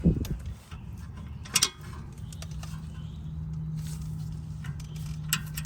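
A long-handled 3/8 ratchet tightens front brake caliper bolts on a BMW 330ci, giving a few sharp clicks and mechanical ticks over a faint steady hum.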